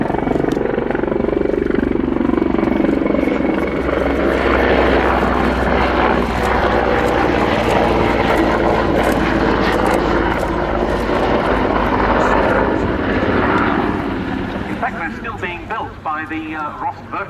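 A Czech Mil Mi-35 Hind helicopter gunship, export version of the Mi-24V, drones close and loud with turbine whine and thumping rotor blades, staying strong before fading slightly near the end, with no talk over it.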